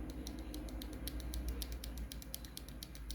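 Typing on a T-Dagger Arena budget 60% mechanical keyboard, a steady run of quiet, fairly faint key clicks in quick irregular rhythm over low background hum.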